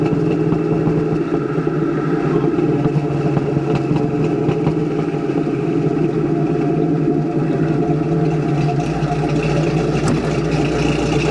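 A 1976 Pontiac Trans Am drives down a bumpy road, its engine a steady, low, rumbling drone heard from inside the car with faint rattles and knocks, shifting down near the end.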